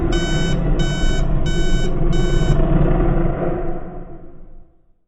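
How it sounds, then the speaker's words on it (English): An alarm clock rings loudly in four quick bursts of bright beeping over a dense clattering ring that lasts several seconds, then dies away into silence. "all I can think about is the sound my alarm will make when it goes off"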